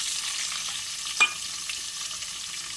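Onions frying in a pan for semiya upma, a soft steady sizzle hissing close by with a single brief clink of a utensil midway, no voices.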